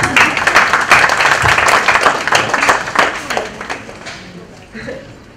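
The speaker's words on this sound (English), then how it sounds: "Applause" Audience applause at a book launch event, steady clapping throughout that gradually softens toward the end, with some talk mixed in.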